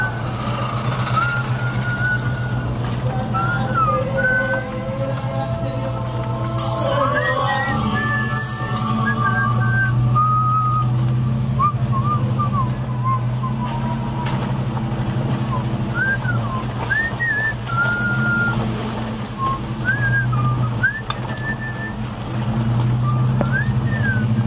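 Someone inside a moving vehicle in Iguala, Mexico, whistles a festive Christmas tune in short wavering phrases over a loud, steady engine drone, with occasional faint voices.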